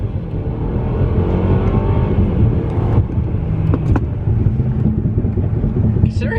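2017 Mercedes-Benz E300 base model accelerating hard at full throttle from inside the cabin, engine rumble climbing steadily through the automatic's gear shifts, loud and continuous with brief breaks where each shift lands.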